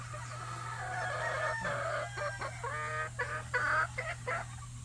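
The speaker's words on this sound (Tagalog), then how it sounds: "talagang love na love ko yung mga manok ni Kuya Martin at ni Kuya Marlon Esculin" Young pullet chickens on a farm cluck and call in a steady chorus, with a rooster-like crow and a constant low mechanical hum underneath; no talking.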